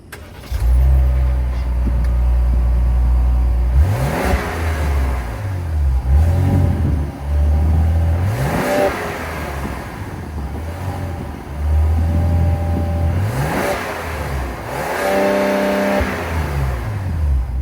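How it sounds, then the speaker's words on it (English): A 2025 Ram 1500 Limited Longhorn's high-output 3-liter twin-turbo Hurricane straight-six revs hard in three or four loud, rising bursts, each dropping back to a deep, steady idle between them, with no talking. "let's fire up this high output 3-liter twin turbo straight 6 and hear how she sounds"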